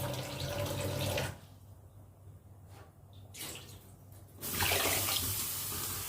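Water from a tap gushes into a cooking pot while khichdi is being made, a loud steady rush that drops off for a few seconds and then resumes strongly, with no speech.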